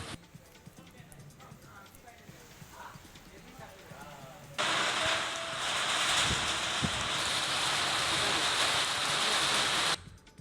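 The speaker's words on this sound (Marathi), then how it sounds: "वाशिमच्या कारंजा तालुक्यातील कामरगाव परिसरात वादळी वाऱ्यासह पाऊस बरसला" Pre-monsoon rain driven by stormy wind in the Karanja area of Washim, starting as quieter outdoor ambience with some speech, then jumping to a loud, dense, steady rush of rain and wind for several seconds before cutting off.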